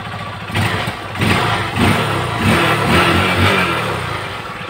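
A Honda TMX Supremo 150cc motorcycle engine runs close by after a carburetor cleaning, settling into a steady idle with slight surges in the throttle.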